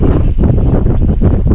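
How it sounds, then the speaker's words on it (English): Strong wind at a mountaintop lake buffets the microphone, a loud close rumbling roar that gusts unevenly with no other sound over it. "Wind's blowing hard today"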